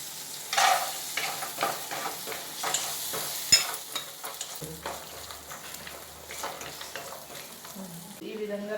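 Cashews sizzle softly in a frying pan for paneer masala curry, with intermittent stirring scrapes and clinks over the steady crackle, fairly close and quiet.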